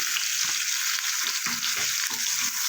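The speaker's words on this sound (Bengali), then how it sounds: "আলুটা ভালো করে লাল করে আমি ভেজে নেব" Oil sizzles steadily as food fries in a pan, with soft stirring knocks now and then beneath the constant crackle.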